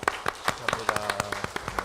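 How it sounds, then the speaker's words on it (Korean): Church congregation clapping in encouragement during a Sunday service, a short run of sharp, rhythmic claps close by, fairly loud and regular, with faint voices underneath. "우리 함께 응원의 박수 한번 보내드릴까요?"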